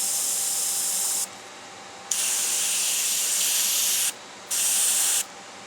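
A paint spray gun coats a pheasant taxidermy mount in several bursts of steady hiss, each lasting one to two seconds with short pauses between, close and clear with no talking.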